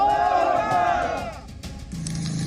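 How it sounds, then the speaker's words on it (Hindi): A crowd chants slogans in support of the Taliban, a loud collective shout with sustained voices carrying over background noise, fading after a moment. "तालिबान के पक्ष में नारे लग रहे थे"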